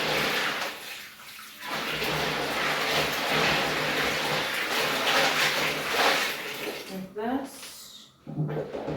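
Steady running water fills the scene as beans are double-washed outdoors during vegan batch cooking, a continuous close splashing flow, briefly interrupted near the end by a few clunks and shifts.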